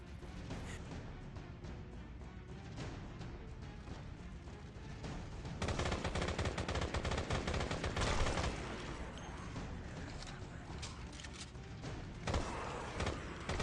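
Rapid gunfire in a mobile tactical first-person shooter game, dense bursts of shots and crackling impacts running continuously with louder stretches, no talking.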